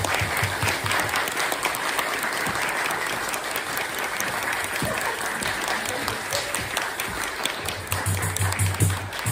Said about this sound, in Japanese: 皆さん拍手でお迎えくださいね